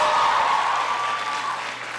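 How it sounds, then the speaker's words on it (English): Audience applause for Mayor Muriel Bowser at a public gathering, a brief wash of many hands clapping that fades slightly toward the end. "Give her a big round of applause."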